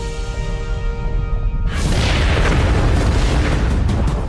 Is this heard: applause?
no